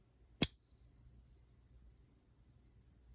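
One crisp tap on a 90% silver coin, followed by a bright, pure ringing note that wavers slightly and decays gradually for nearly three seconds, alone in silence.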